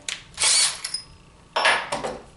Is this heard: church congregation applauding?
no